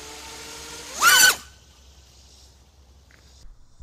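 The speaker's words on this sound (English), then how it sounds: "If your multi-rotor, if it seems like it is just going full throttle and flips, it won't even make it off the ground, that is InstaFlip." A multi-rotor drone's motors rev briefly to full throttle as it flips on takeoff, a loud rising whine lasting about half a second before cutting out into near silence.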